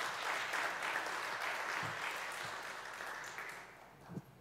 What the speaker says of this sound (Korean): 힘찬 환영의 박수 부탁드립니다.